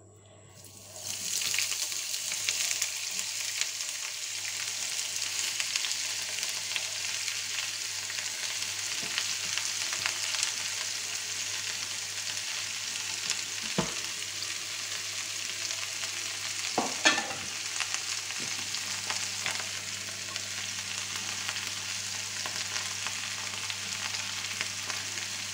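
Julienned vegetables sizzle and fry steadily in a pan for a long stretch, with occasional scraping stirs and clinks, close and moderately loud with no talk.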